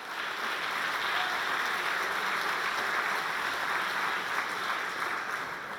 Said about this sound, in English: we should offer a little bit stronger applause